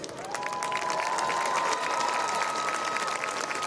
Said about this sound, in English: Let's give our inductees a big round of applause.